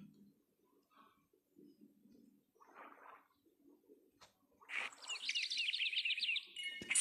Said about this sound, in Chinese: 怎么能听得到小鸟的声音？